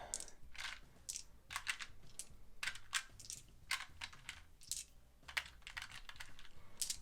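Plastic dice for the board game Monster Lands clatter as they are gathered up on a tabletop, a quiet run of rapid clicks and ticks in uneven bursts, with no talking.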